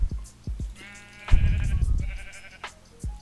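Sheep in the Minecraft video game bleat in two drawn-out, nasal calls, one short and one longer, set among soft game thumps and light background noise.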